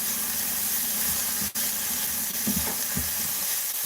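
Peppers sizzle in a pan for a curry, a steady close hiss with a few soft clinks and stirring sounds near the end.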